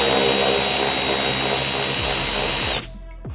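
Power tool spinning out a taillight bolt with a 10mm socket on a Toyota Tacoma, a loud continuous whine with a steady high tone that runs for nearly three seconds and then cuts off abruptly.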